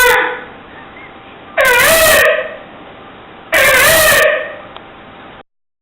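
A man imitates a peacock's call with his voice, giving two loud, shrill, wavering cries separated by a short pause, close up and alone.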